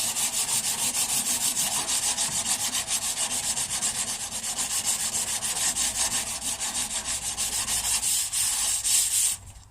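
Hand sanding of a Peugeot 206 bonnet with 120 grit paper, a continuous rough rasping rub with steady back-and-forth strokes, close and alone without talk.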